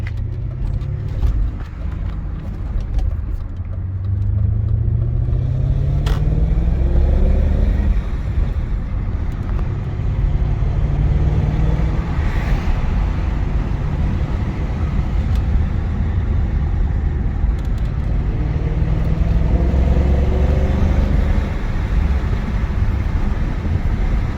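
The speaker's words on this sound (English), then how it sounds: "You can hear the window regulator is rattling." Rattling window regulator of a 2000 BMW E39 M5 on its first drive, a loose clatter riding under steady, loud engine and road rumble that swells and settles as the car accelerates.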